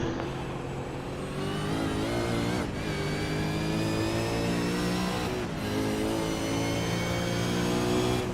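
V8 Supercars racing car engines in New Zealand roar continuously as they accelerate, a loud sustained multi-engine drone with rising pitch and brief dips as cars pass, heard alone without commentary.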